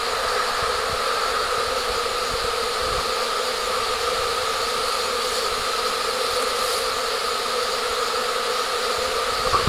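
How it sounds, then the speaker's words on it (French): A huge swarm of honeybees in Colomars in May fills the air with a dense, continuous buzz, loud and close, holding steady throughout with no voices. "Je ne sais pas si on apprécie le nombre d'abeilles qui volent encore."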